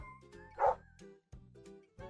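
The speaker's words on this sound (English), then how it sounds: "The way the dog literally said yeah." A dog lets out a few short, close yips and barks in quick succession, with one louder bark standing out in the middle; no one speaks.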